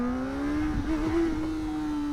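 A car accelerating hard in first gear in a parking lot, a steady rising engine whine building briefly and then holding, close and alone without talk.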